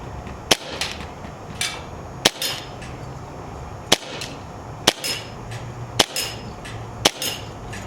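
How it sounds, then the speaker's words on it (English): Airsoft BB gun firing at targets outdoors: seven sharp, loud snapping shots spaced roughly a second apart, each followed by a faint distant tick of impact, with no talking. "I track BBs when I shoot."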